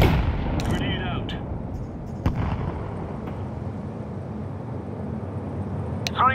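A loud grenade blast in Counter-Strike 2 opens with a heavy boom that rumbles away, followed by a few scattered sharp gunshots and metallic clinks, with in-game voice lines heard briefly.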